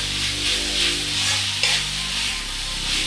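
Gobi Manchurian with fresh coriander is stirred in a hot pan, a steady loud sizzle and fry running throughout as a spatula scrapes and tosses the cauliflower.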